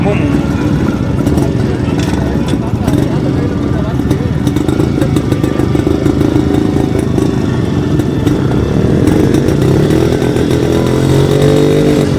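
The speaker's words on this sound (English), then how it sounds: "It is all terrain, all condition, all weather motorbike. I enjoy riding this." A Jawa motorcycle engine runs steadily and loudly throughout, its low rumble constant with a few clattering mechanical ticks on top.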